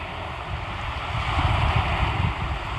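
Wind buffets the microphone and surf rolls steadily at a beach, a loud continuous rush with no talk.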